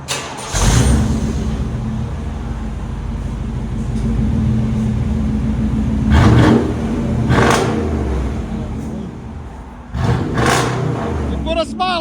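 A 1997 Chevy Tahoe with a 5.7L V8 and Flowmaster Super 10 mufflers rumbles steadily at idle, then swells through two or three short revs, loud and close, with people talking over it.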